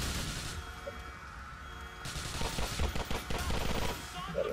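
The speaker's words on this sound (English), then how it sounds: "Olha só, a light machine gun que ela faz, ó." Light machine gun fire in the video game GTA IV: The Ballad of Gay Tony, heard as moderately loud bursts of rapid shots over a rumbling game soundscape, growing denser after the first couple of seconds.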